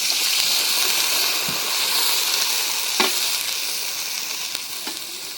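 Goat meat fries with salt and ginger-garlic paste, a steady loud hiss and crackle throughout with occasional brief pops and stirring knocks.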